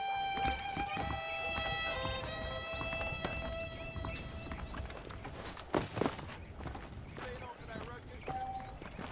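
Horse hooves clip-clopping at a walk in the western video game Red Dead Redemption, a steady rhythmic patter under ambient game sounds, music tones and someone talking.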